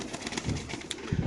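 Racer pigeons coo at a pigeon farm, soft rolling calls repeating over a busy background with faint wing flutters.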